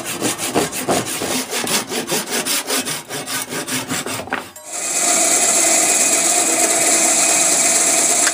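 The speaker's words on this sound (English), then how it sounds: "So I'm going to cut me some little sections off and split them down" A hand saw cuts a quarter-inch-square chunk of hard ebony into small sections with a quick, loud, rhythmic run of back-and-forth strokes, then gives way to a steady, bright whirring.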